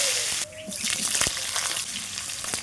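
Cut potatoes dropped into hot mustard oil with five-spice seeds and bay leaves in a wok, giving a steady close hiss and spattering sizzle that briefly dips, then continues evenly.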